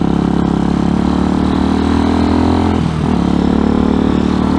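A 2020 RPS Hawk 250 Enduro motorcycle engine hums steadily while cruising on a road, a continuous close drone with wind rush and a brief dip near the end.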